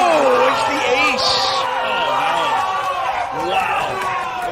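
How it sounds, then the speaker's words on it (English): A poker crowd at a $25K High Roller event of the World Series of Poker erupts in wild cheering as an ace hits the board, loud shouts and whoops close by, with a voice talking over the noise. "the O'Donnell crowd goes crazy"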